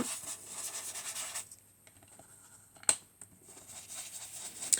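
An ink pad rubbed along the edges of a paper greeting tag, a soft close scratchy rubbing in short strokes, with a quiet pause and a sharp tap midway.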